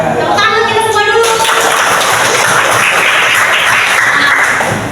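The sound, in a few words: applause, clapping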